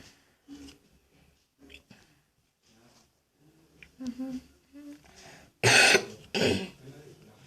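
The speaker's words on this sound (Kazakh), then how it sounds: "Мен жөтелеп жүрмін" Two loud, harsh coughs come close together near the end, after quieter murmured talk and throat sounds.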